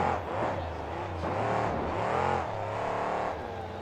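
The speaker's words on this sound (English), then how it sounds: "First truck going for the big ramp and gets some good air, not a lot of distance." A monster truck engine revs hard through a ramp run at a KORR Monsters show in Tacoma, WA, loud and close, its pitch rising and falling in repeated surges.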